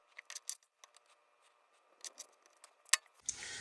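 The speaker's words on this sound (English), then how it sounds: "So we'll cut down the centers of each, and then we'll cut through each of the cut lines themselves." Scissors snip through stacked fabric squares for half-square triangle quilt blocks, with a series of short, crisp cuts, then a brief rustle at the end, close and fairly quiet.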